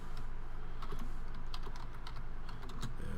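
Rapid keystrokes clatter steadily on a computer keyboard, close and fairly quiet, as a name is entered for a new Kerbal Space Program career game.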